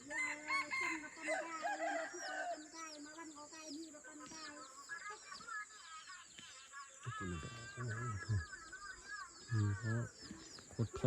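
A fighting rooster held in the hand crows in drawn-out, wavering calls, one burst near the start and another later, with a faint steady hum behind and low voices talking toward the end.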